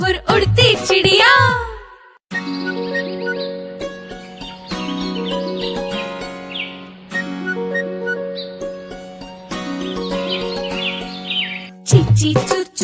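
A bird chirps in a children's song, its cheep-cheep calls carried as bright, repeated high tones over a steady melodic backing. The chirps are close and loud, and vocal bursts bracket them at the start and end.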